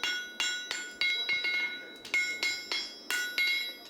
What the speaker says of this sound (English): Use the round edge of your hammer and almost shear the portion out the shoe